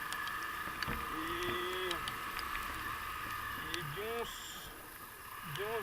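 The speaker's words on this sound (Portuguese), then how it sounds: "Deu pra ouvir bem o barulho aí que a minha CB Twister tá fazendo, né?" Honda CB Twister motorcycle engine running with about 2,900 km on it, making an abnormal noise and leaking oil: a steady whine continues under someone talking close by.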